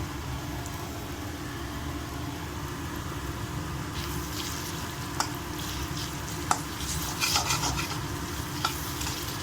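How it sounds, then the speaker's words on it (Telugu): Ginger garlic paste hits a pan of meal maker chunks and sizzles in hot oil, a steady close frying hiss under a low hum, with sharp spoon scrapes and taps against the pan in the later seconds. "ఇప్పుడు అల్లం వెల్లుల్లి పేస్ట్ కూడా వేసుకుందాము."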